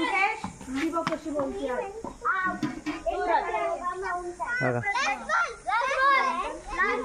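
Village children chatter and shout excitedly as they play cricket outdoors under a tree, several young voices overlapping in a lively, continuous stream.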